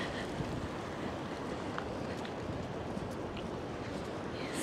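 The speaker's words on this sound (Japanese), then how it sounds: "おお、波が" Ocean waves wash onto the shore on an overcast early morning in Hawaii, a faint, continuous surf roar mixed with wind noise, with no voices.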